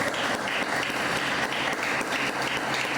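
A church congregation applauds during a worship service, a steady, dense wash of many hands clapping that fills the space evenly from start to finish without pause.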